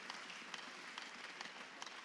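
A church congregation gives a continuous, distant round of applause, a soft dense patter of many hands clapping at low volume.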